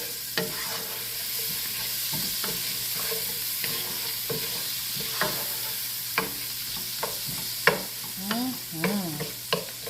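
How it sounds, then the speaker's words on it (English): Fried rice being worked in a hot pan, with sharp repeated scrapes and spatula knocks across the bottom over a steady sizzle, close and fairly loud. "I'm going to scrape all this here off the bottom of this pan."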